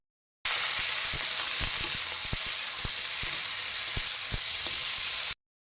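Steady close-up sizzling of food frying in a pan, with occasional soft pops and crackles, no talking.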